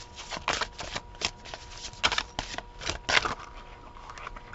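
Tarot cards being shuffled in quick riffling bursts, a series of crisp flutters and taps close by, with no talking.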